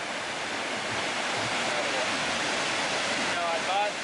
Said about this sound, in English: How about this waterfall